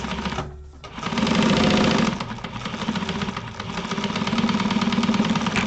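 A sewing machine stitches a quarter-inch seam across a Lemonza wallet project, its fast, even mechanical hum running in two close, loud bursts with a brief pause between.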